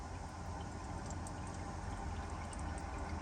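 Motor oil drains steadily from an Audi A4 Quattro during an oil change, a continuous low liquid rush and trickle holding an even level throughout with no talking.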